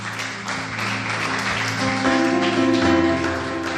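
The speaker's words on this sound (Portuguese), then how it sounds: "Vamos dar um aplauso ao Senhor para encerrar." A church congregation claps together at the close of a service, a steady wash of applause running for several seconds over sustained keyboard chords.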